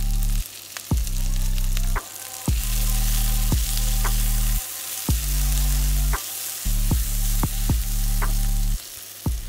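Chilies fry in a hot pan with ginger, giving a loud, close, continuous sizzle that comes in bursts and pauses as they are stirred, with sharp clicks of the utensil between bursts.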